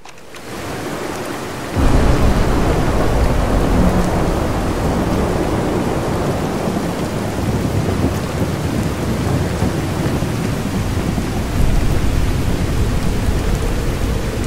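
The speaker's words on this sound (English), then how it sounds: "Rad, rain heavy." Heavy rain pours in a dense, constant roar in the video game Fallout 4, with deep thunder rumbling underneath and swelling louder at moments.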